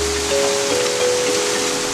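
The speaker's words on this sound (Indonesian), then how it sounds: "Hujan itu nggak berhenti dari subuh" Steady rain falls without a break during a wet Sumatra expedition with Land Rovers, a dense, even hiss filling the scene, with a faint tonal hum running underneath.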